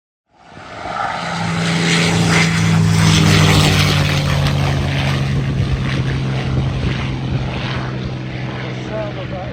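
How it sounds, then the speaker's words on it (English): A propeller plane's engine drones loudly and steadily overhead at an airshow, a deep throbbing hum with a rough, buzzing edge that holds for several seconds. "The sound of that engine is right through my liver."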